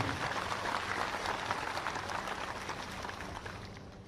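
Audience applause at a Bihar Day event in Bhopal: sustained, dense clapping from a large crowd, steady throughout and slightly fading toward the end, with no speech over it.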